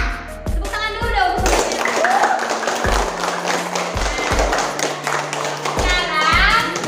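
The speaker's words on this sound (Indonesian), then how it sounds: "Tepuk tangan dulu dong." Children clap their hands in a classroom prize-giving, loud bursts of fast claps punctuated by pauses, with children's voices and excited chatter mixed in close by.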